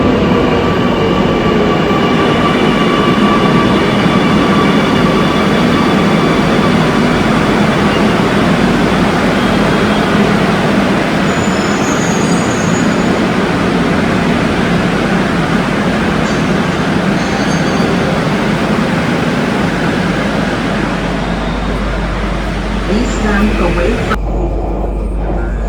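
Amrit Bharat Express train, general coach, on the Mangaluru route, running with a loud, steady rumble and rattle for the whole stretch, a faint tonal whine riding over it.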